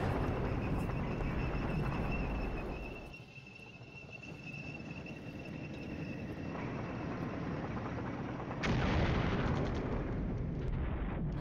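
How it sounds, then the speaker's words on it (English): Heavy artillery bombardment in the wargame Flashpoint Campaigns: a continuous rumbling barrage of shell impacts and booms with no pause, dipping briefly midway then swelling again with a sharper, brighter burst near the end. "Enemy is heavily bombarding that area. Just heavily bombarding Markowitz."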